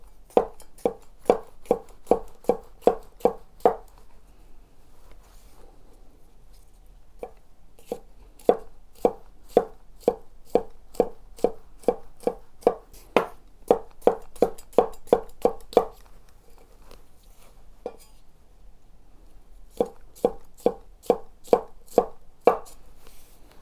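A Chinese cleaver chops rapidly on a cutting board in several long runs of crisp, evenly spaced knocks, close and clear, with short pauses between bursts and no talking.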